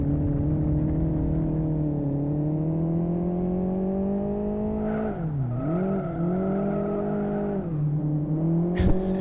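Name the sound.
race car engine driving in video game Live For Speed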